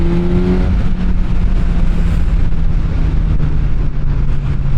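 A Suzuki GSX-S1000 four-cylinder motorcycle pulls hard under a loud, steady engine roar that rises in pitch as it accelerates, heavily buffeted by wind rush.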